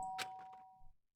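A single soft doorbell chime in Danganronpa: Trigger Happy Havoc, a clear ringing tone that fades out, followed by quiet faint movement and a tiny click.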